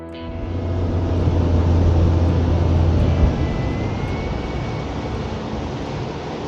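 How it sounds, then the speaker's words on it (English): A fishing boat engine runs steadily out on the water, a loud, even droning hum with a broad wash of rumble that holds without a break. "The engine's purring."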